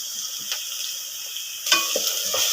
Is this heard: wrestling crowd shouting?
no